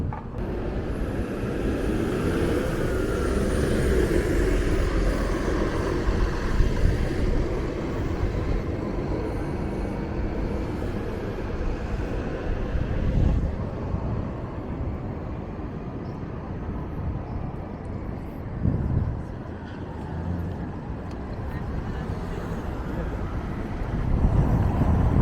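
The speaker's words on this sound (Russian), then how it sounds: "сейчас, конечно, дует такой достаточно сильный ветер" Strong wind roars steadily outdoors in downtown Winnipeg in July, a broad low rumble gusting throughout with no talk.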